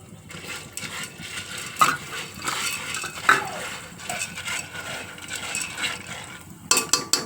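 Corn kernels with salt being stirred in a pressure cooker, a continuous scraping rattle of a spoon against the metal pot with occasional louder knocks and clinks, no talking.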